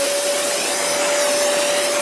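A Zero G floating vacuum cleaner runs steadily and loudly with a constant whine and a broad airy roar, heard alone without pauses.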